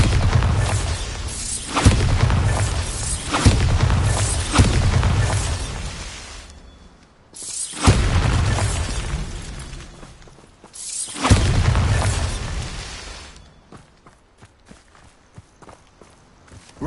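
Bombarda blasting spell in Hogwarts Legacy on PS5, three heavy booming blasts each breaking into rumbling, crumbling debris and fading, followed by quieter scattered clatter.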